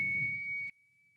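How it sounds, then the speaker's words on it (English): One steady, simple whistled tone is held close for most of a second over a low background rumble, then cuts off abruptly, leaving faint room noise. "You can even just make a real simple sound right now, like just whistle like a wee."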